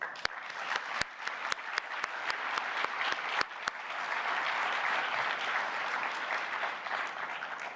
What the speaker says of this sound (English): So from everybody, really a great applause to all of you.